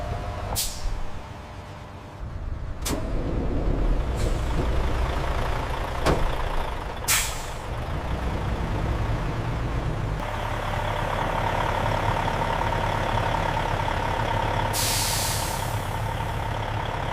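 A truck in a busy loading area gives off sharp air-brake hisses, the loudest at the start and another near the end, over a steady engine rumble and industrial background noise.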